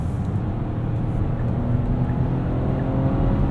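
A 2019 Kia Sorento SXL V6 AWD under full throttle, heard from inside the cabin as a steady, fairly subdued engine drone and road rumble throughout, with no talking.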